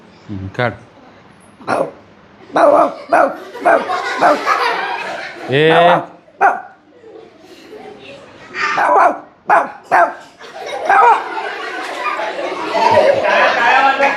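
A seventh-grade schoolchild at a school event imitates a dog barking with a series of short, loud yapping bursts, broken by talk and laughter from a nearby audience.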